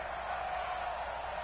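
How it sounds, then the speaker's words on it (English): Steady crowd roar from a football stadium in a video game, a dense wash of many voices holding at a constant moderate level throughout a brief stretch with no distinct cheers standing out. "Listen to this crowd now."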